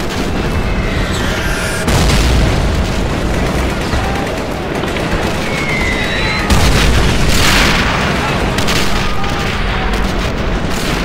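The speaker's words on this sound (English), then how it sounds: "Everything I've got is opening up on the Soviets now. Panthers, rockets, flaks." In a World War II strategy game, Panther tanks, rockets and flak guns fire on Soviet forces: a dense, loud barrage of booms and blasts with overlapping gunfire, swelling in heavier bursts.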